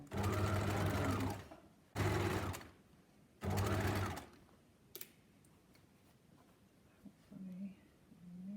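A sewing machine runs in three loud bursts of stitching as a collar is sewn to a neckline seam, each run lasting about a second, followed by quieter handling sounds and faint ticks.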